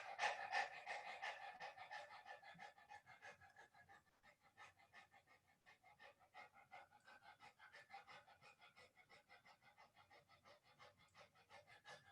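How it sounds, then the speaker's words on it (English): Group breathing-exercise panting during a yoga asana class, done with tongues hanging out like dogs: a steady run of quick, rhythmic breaths that fills the clip with no talking. "Pant with your tongue hanging out like this."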